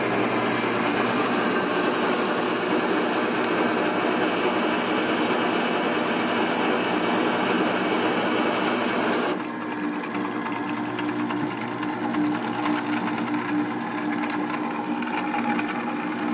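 An electric motor runs steadily with a loud, continuous mechanical whine and hum that shifts abruptly to a slightly quieter, lower tone partway through and keeps going without pause.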